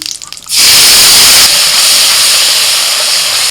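Spice paste mixed with water hits hot mustard oil in a wok and bursts into a sudden loud hiss, a sustained close, spraying sizzle that eases only slightly.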